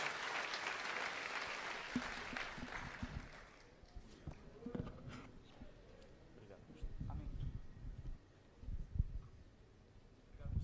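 A church congregation claps in a burst of applause that fades after a few seconds, followed by scattered claps and shuffling under a murmur of voices.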